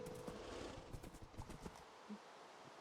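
Zombie horse hooves clopping in Minecraft, a quiet run of soft irregular hoofbeats with faint rustling, low in level and fading out near the end.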